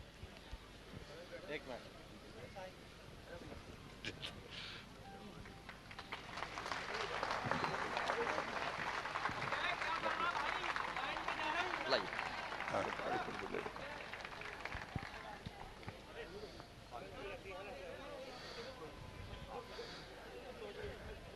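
An audience at a Jain religious discourse gathering applauds, the clapping faint and distant, swelling in the middle and then thinning, with a voice over it.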